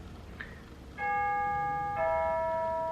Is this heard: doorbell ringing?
yes